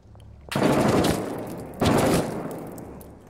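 Enemy gunfire in the combat game Six Days in Fallujah arrives as two sharp, loud bursts about a second apart, each starting abruptly and decaying into a rumbling tail, with no talk over it.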